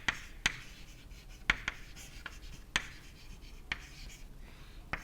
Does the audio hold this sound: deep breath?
no